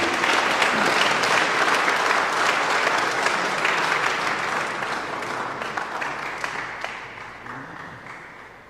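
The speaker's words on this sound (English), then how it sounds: "You can give him all a round of applause, everybody." Sustained applause from the audience at a youth cricket tournament media launch as team captains receive their caps, dense and steady, slowly thinning toward the end, with no talk over it.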